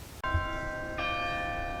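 Church bells across the street ring out after a brief scrape: one clear strike rings on, then a second bell joins about a second later, both tones sustaining, moderately loud and without voices.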